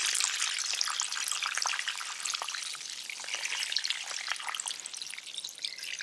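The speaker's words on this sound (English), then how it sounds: "tip it on a bit of an incline so that the water travels downward like this" Water trickles down compacted dirt or sand tilted on an incline at a creek, a steady fine patter and drip with small splashing ticks throughout, fairly close and moderately quiet.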